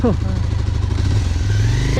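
A motorcycle engine drones loudly and steadily up close on an off-road Himalayan ride in Nepal, rumbling under rough riding noise.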